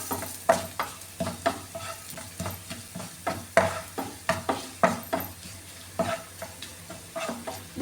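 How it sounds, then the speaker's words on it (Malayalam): Kashmiri chili powder heating in a pan is stirred in a steady, even rhythm, each stroke a soft scrape over a light sizzle, close and alone, while preparing pazham pulissery. "ഈ പൊടിയുടെ പച്ച ഫ്ലേവർ ഒന്ന് മാറാൻ വേണ്ടി നന്നായിട്ടൊന്ന് ചൂടാക്കിയെടുക്കാമേ."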